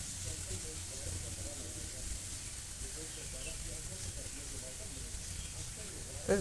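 Chicken burger patties frying in a pan, a steady soft sizzle and hiss running throughout at close range, with a brief louder clatter at the very end.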